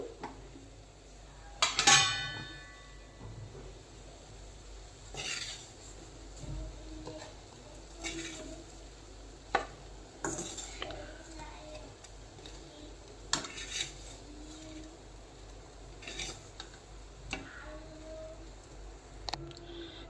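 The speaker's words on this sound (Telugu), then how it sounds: "స్టవ్ ఆఫ్ చేసుకొని మనం సర్వింగ్ ప్లేట్లోకి తీసుకుందాం మన కాకరకాయని" Fried bitter gourd being scooped from a pan onto a serving plate, with scattered metallic clinks, scrapes and taps of a spoon against cookware, close and fairly quiet, heard alone.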